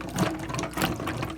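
Fig cuttings being washed under water, a continuous close gush and splash of flowing liquid, loud and unbroken, with no voices.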